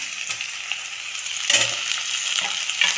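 Tomatoes and onions for chana masala sauté in a pan with a continuous close sizzle, broken by a few sharp utensil scrapes and taps as the mixture is stirred, no voices.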